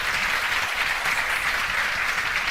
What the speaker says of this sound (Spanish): Voy a pedir un fuerte aplauso.